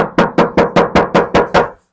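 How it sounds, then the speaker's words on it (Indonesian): Knuckles rap a thin, tinny body panel of a Suzuki XL7 before sound deadening is fitted, eight quick evenly spaced knocks with a hollow, ringing metallic tone, close and loud. "Sebelum pasang peredam, ini suara cemprengnya seperti ini ya."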